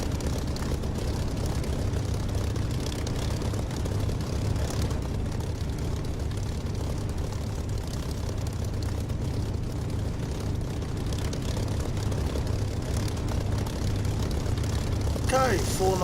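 Propeller aircraft engine of a Spitfire in the DCS flight simulator game, a steady loud drone and low rumble running throughout, with radio chatter and voices over it.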